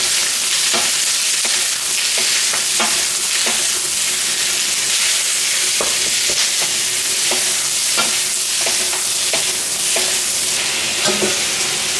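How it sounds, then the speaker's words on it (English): Vegetables stir-fried in a pan for sweet and sour pork give a steady, fairly loud sizzle and hiss, with a spatula knocking and scraping the pan in irregular taps throughout. "let's just give our veggies a little bit of a stir fry first for a minute or two"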